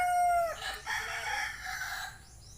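Rooster crowing at a poultry farm with other chickens clucking nearby, a long, loud, close cry followed by overlapping calls from the flock.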